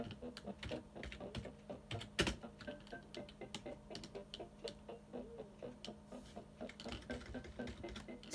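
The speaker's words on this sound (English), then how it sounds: "I'm typing things in the chat. I like being quiet when I type things in the chat." Keys on a computer keyboard tapped in an irregular run of quiet clicks through a chat session during a Bee Swarm Simulator game, with a soft steady background hum and one sharper knock midway.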